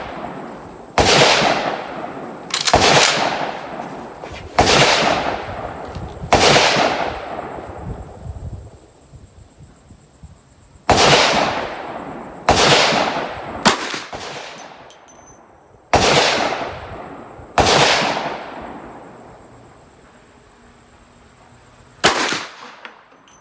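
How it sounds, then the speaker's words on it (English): Eight loud, sharp rifle shots from a Ruger M44 carbine fired outdoors, spaced irregularly a second or more apart, each with a ringing decay, the last one isolated after a pause. "Might as well take another 4 shots."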